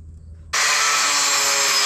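Power drill boring holes in small metal squares, starting abruptly after a low hum and then whirring loud and steady at close range without any talk.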